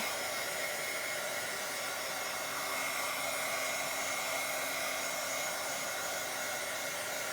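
Hair dryer used to dry paint layers in a Bible journal, a steady continuous close whooshing blow without pause or talk.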